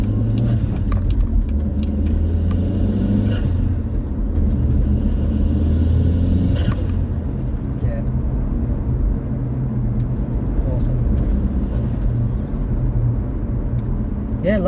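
Volkswagen MK4 GTI with the 1.8T engine running after an intercooler install, a steady loud low rumble of idling with no talk.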